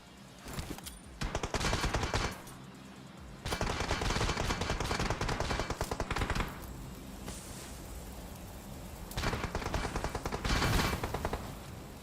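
Automatic gunfire in the mobile battle royale game PUBG Mobile, loud and close, in long rapid bursts broken by brief pauses.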